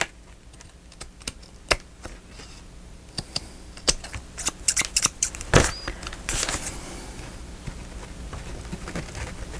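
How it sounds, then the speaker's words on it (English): Tim Holtz scissors snipping paper in a papercraft journal project, a run of sharp close clicks and snips with a louder cluster of cuts midway, no talk. "our Tim Holtz scissors."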